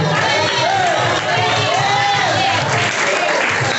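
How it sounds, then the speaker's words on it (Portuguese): A church congregation applauding, dense sustained clapping filling the room with voices calling out above it, loud and continuous. "e as palmas logo"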